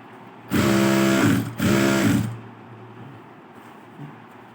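A sewing machine runs a running stitch on a blouse in two loud, close bursts of rapid mechanical whirring about a second apart, then falls quiet to a low room hum.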